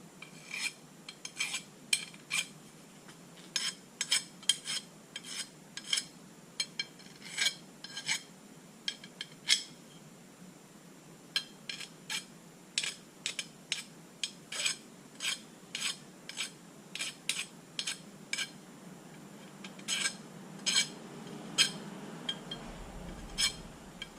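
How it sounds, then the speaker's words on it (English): Metal file rasping burrs off a steel vise stop in a workshop, dozens of short sharp strokes in a steady back-and-forth rhythm, close and clear with no talking. "I'll just clean up the burrs quickly, just to make sure that it's not catching on them."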